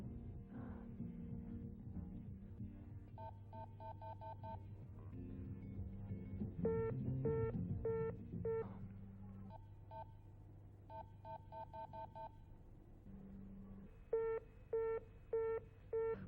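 A faint telephone busy signal beeps in regular on-off pulses over a low hum, with stretches of dial tones mixed in.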